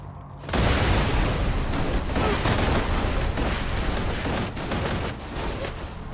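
MIRV grenade explosions from the Borderlands 2 video game erupt after a brief pause and pile into a dense, continuous roar of booms and crackling blasts that holds loud to the end.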